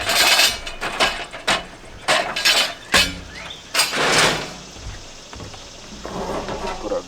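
Metal grill grates clank and clatter as they are set onto a grill outdoors, several sharp knocks in uneven succession, then a quieter stretch.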